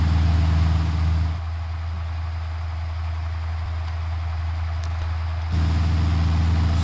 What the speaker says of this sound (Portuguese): Só o motor ligou.